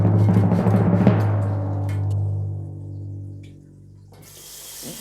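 Water sprays and splashes from a bathroom shower head after it has been cleaned and reassembled, a loud close rush that gradually softens and thins, then a brief hiss at the end.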